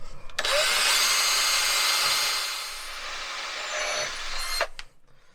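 A power drill bores into a Jaguar XK engine block during a stake-down kit installation, a single sustained high whine lasting about four seconds, starting and stopping sharply, heard close.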